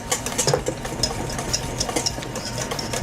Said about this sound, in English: you do want to constantly be whisking it